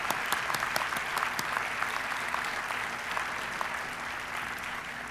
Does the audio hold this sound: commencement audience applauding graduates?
yes